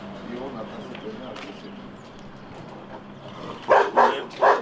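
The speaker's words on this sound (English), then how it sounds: "one of the dogs is not friendly." Dogs, one of them unfriendly, let out three loud sharp barks close by at the end, after a stretch of low outdoor rumble and faint background noise.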